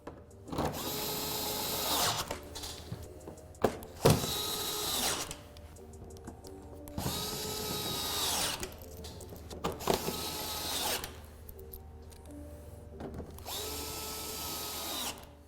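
Power driver running in repeated whirring bursts of about two seconds, driving 7mm screws into a C7 Corvette undertray, with short clunks and pauses between each screw.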